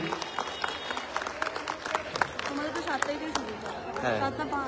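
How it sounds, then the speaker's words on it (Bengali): Audience applause for Tanushri Shankar's dance group at the Asansol Utsav 2025 festival: a dense, steady wash of clapping from a large crowd, mixed with chatter and a voice over it. "সবাই মিলে একটা বড় করে করতালি"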